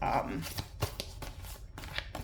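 Tarot cards being shuffled during a reading, producing brief papery riffles and flicks close by, mixed with a woman's speech throughout.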